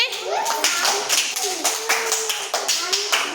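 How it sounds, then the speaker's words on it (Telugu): A class of children claps together for a classmate during a classroom letter game, a burst of dense, quick hand claps with an adult voice and young chatter mixed in. "క్లాప్స్ కొట్టండి నాగశ్రీకి"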